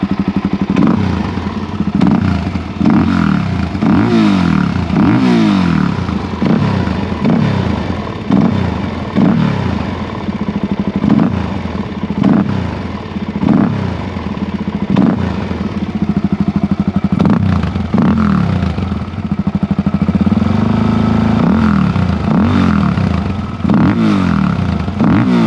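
A modified Suzuki DRZ 400 SM motorcycle engine revs repeatedly, rising and falling in quick throttle blips over a rough, clattering idle, loud and close.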